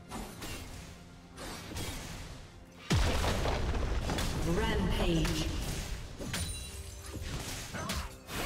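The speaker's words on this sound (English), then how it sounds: "team's turret has been destroyed." A turret in League of Legends gets destroyed with a heavy boom and crashing, shattering debris, loud and close amid game effects and music; a voice speaks over part of it.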